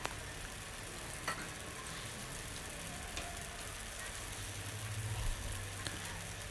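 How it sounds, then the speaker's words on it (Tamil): Tomato dosa batter sizzling in a hot pan with sesame oil poured into the holes, a steady soft hiss throughout with faint clicks, fairly quiet and alone. "இப்போ அந்த ஹோல்ஸ் இருக்குல்ல, அதில் மட்டும் நல்லெண்ணெய் ஊற்றிக்கலாம்."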